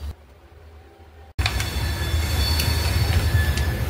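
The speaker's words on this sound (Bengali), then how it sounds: "তো ফ্রেন্ডস আমাদের ট্রেন ছেড়ে দিয়েছে সাইনগর স্টেশন" Sainagar Shirdi superfast express train pulling out of Sainagar Shirdi station, a steady loud rumble of wheels and carriages with faint squeals, rising abruptly after a brief quiet start.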